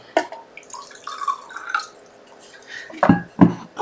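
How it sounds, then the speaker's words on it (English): Water is poured into a small glass at a crafting table, with light trickling and splashing followed by two sharp clinks of glass near the end. "I'm going to put a little bit of water into that."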